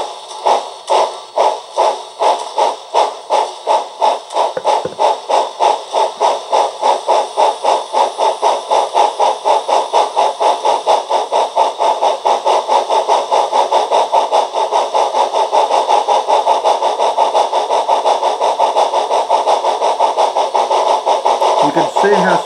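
A Proto 2000 0-8-0 steam model locomotive with a fitted sound decoder chuffs rhythmically, starting with spaced puffs that quicken into a fast, steady exhaust beat over a hiss, loud and close.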